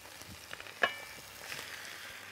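Long beef slices sear in a hot pan with a faint, steady sizzle and crackle, broken by one brief utensil clink.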